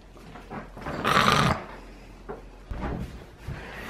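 A husky puppy gives a brief growling, rough vocalization up close, followed by scattered softer grumbles and small bumps in an indoor room.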